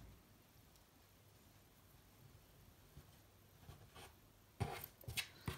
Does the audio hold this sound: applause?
no